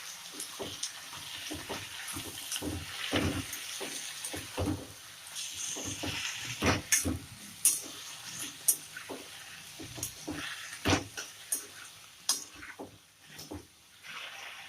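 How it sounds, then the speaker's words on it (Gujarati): Brinjal and potato curry stirred in a pan with a spoon, giving a steady run of soft scrapes and clinks at close range, with no talking. "હવે આપણે એને સરસ હલાવી લઈશું."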